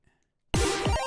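Game Boy running LSDJ plays a snare instrument: after near silence, loud noisy synthetic hits arrive in quick succession with sweeping pitch drops, repeating within about half a second.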